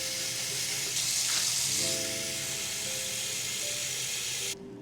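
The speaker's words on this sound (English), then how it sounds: "I'm getting some water now" Water running from a tap in a New York apartment kitchen, a steady hiss that swells briefly then cuts off near the end, with faint tonal hum underneath.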